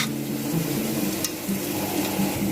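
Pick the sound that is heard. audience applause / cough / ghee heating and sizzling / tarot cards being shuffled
ghee heating and sizzling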